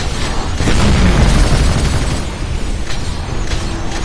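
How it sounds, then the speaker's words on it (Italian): A big, loud explosion in the Titanfall video game, a deep booming blast that swells and then rumbles away over several seconds, with no voices. "No, esplosione. Esplosione."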